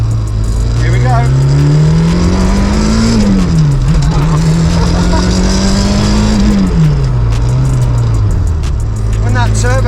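Rare rally car engine revving hard, pitch climbing and falling in long sweeps as the turbo spools up, loud and close throughout.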